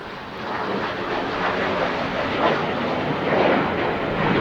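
Jet aircraft passes at an airshow, a broad continuous roar that swells gently with wind buffeting, heard at a distance with no talk.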